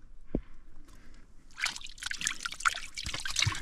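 Water trickles and drips at a small spring in the dry Caatinga scrub, with faint scattered splashes growing busier after a quiet start, heard close and fairly soft.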